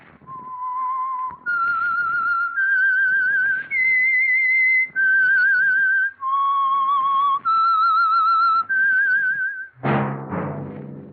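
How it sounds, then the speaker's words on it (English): A lone whistler carries the eerie theme of the radio mystery show The Whistler, a sequence of sustained, clear melodic notes stepping up and down, ending with a sharp, brighter burst. "That whistle is your signal for the Signal Oil program, The Whistler."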